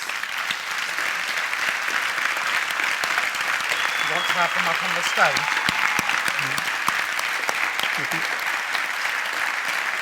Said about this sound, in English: take a well-deserved round of applause for their hard efforts